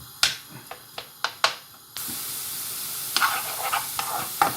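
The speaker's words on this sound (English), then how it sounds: "we're going to cook some mushrooms off, but we're going to dry fry them to get rid of that excess moisture" Mushrooms dry frying in a pan, stirred now and then. Sharp spoon taps and scrapes come first, then a steady close sizzle and hiss with occasional crackles and further scrapes.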